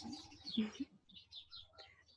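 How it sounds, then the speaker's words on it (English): Birds chirp faintly in the background outdoors near a porch, a few scattered, distant tweets over a quiet room-tone hum. "I hear some birdsong in the background."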